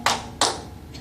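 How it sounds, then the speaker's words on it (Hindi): Two crisp hand claps land close together near the start, loud and dry, followed by a faint third tap as the sound trails off. "ठीक है मालिक, ताली बजाओ"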